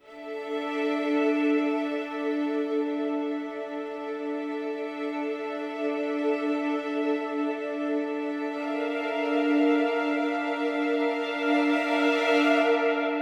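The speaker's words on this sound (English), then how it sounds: "here's the preset to turn them into very spacey and distant sounding strings" Sustained string ensemble chord drenched in a spacey, distant reverb, holding steady for the whole stretch with a long smeared tail and a slight swell near the end, no voices.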